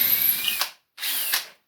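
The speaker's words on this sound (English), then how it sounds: "Drill another hole." A power drill bores a hole in wood for a chair, running in two short bursts separated by a brief pause, loud and close with a rising whine in each burst.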